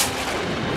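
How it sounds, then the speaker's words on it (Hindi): A single loud gunshot blast fills the moment, a dense, booming burst of noise with no voices over it. "ये तो गोली की आवाज है"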